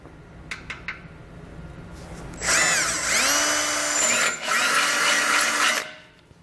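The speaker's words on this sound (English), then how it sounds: "take a drill bit and drill a hole through our bumper beam" After a few light taps, a power drill whines loudly for about three seconds drilling a hole through a metal car bumper beam, briefly dips, then grinds on before stopping.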